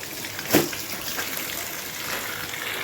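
Water runs steadily in the background with a brief louder splash near the start, fairly soft and continuous.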